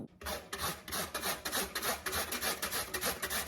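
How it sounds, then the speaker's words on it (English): Sweet potatoes rubbed against a hand grater make quick, rhythmic rasping strokes, about three per second, loud and close with no talking. "grate my potatoes. I'm gonna go ahead and grate it."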